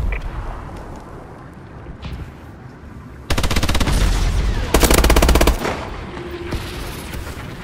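Vulcan killstreak gunfire in Call of Duty Advanced Warfare multiplayer: after quieter battle ambience, loud sustained rapid-fire bursts erupt midway, pounding continuously for about two seconds before trailing off.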